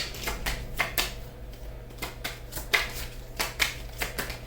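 A deck of tarot cards is shuffled up close, giving a run of crisp riffling and slapping flutters repeated at a quick, uneven rhythm over a low steady hum, with no one talking.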